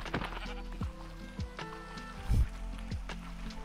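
Sheep bleat in Minecraft amid busy game sounds, with a few short bleating calls and thumping steps or hits mixed in at moderate loudness.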